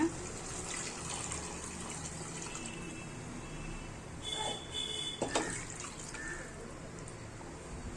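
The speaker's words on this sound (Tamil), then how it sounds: "இதுக்கு தேவையான அளவு தண்ணியை அளந்து ஊற்றிடலாம்" Measured water is poured into chicken masala for Ambur biryani, a steady splashing pour running throughout at moderate volume with a few louder clinks and splashes midway.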